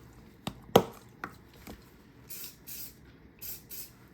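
Short sharp hissing bursts of a super glue accelerant spray can, three separate puffs close by, following a few clicks and taps as the can is picked up and handled.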